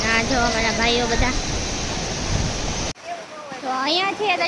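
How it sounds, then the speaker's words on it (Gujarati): Sea water washing in at the shore near Gopnath in Gujarat makes a steady, full rush of surf, with several voices talking over it throughout and a brief drop in the roar near the end. "અહીંયા છે દરિયાનું પાણી એકદમ નજીક આવી ગયું છે, એકદમ દરિયો."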